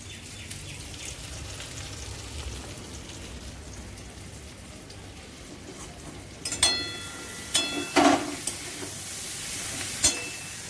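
Pointed gourd (potol) frying in a pan in a home kitchen gives a steady background sizzle, with a few sharper clatters and scrapes toward the end as the pieces are stirred.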